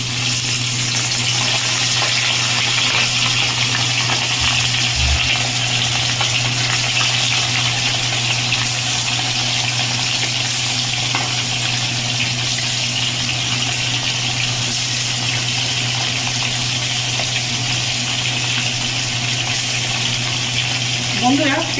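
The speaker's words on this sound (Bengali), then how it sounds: "এবার চিকেনটা আমি ভেজে নেব।" Chicken pieces fry in mustard oil in a wok, giving a steady, loud, continuous sizzle that holds evenly throughout, with a low hum running beneath it.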